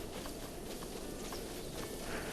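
Wild horses in Breath of the Wild move across open ground, their hooves thudding in a soft, uneven clip-clop rhythm over a steady outdoor ambience, fairly quiet and distant.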